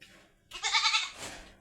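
A goat gives one drawn-out bleat, nearby and fairly loud, with a quieter tail at the end, in a farmyard where the animals are kept.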